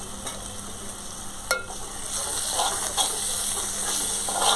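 Red masala sautés with onion and tomato in a pan for kaju masala, a continuous hiss and sizzle broken by a few brief scraping stirs, heard alone and fairly close.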